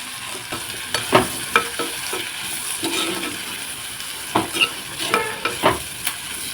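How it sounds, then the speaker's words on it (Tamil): Spices and coriander seeds sautéing in a pan for a spicy ivy gourd kulambu, giving a steady close sizzle broken by repeated scraping stirs of a spoon against the pan. "இதெல்லாம் நல்லா வதங்கட்டு"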